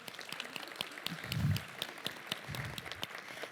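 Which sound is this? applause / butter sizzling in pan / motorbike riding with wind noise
applause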